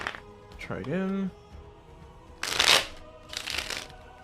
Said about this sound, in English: Okay, so let's go and shuffle this.